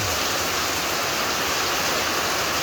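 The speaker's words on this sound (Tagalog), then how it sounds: "nagising tayo sa malakas na ulan na ito." Heavy rain at night pours down in a dense, constant hiss that stays loud and unbroken.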